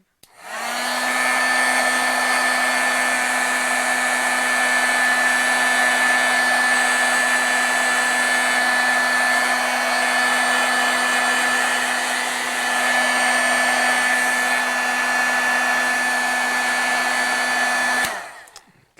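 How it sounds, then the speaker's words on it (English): An embossing heat tool blows steadily while heat-setting embossing powder on a stamped card, a continuous loud whirring hum with a high whine that runs unbroken for about seventeen seconds before cutting off. "I have to heat set this, I forgot, so the embossing powder won't stick to it"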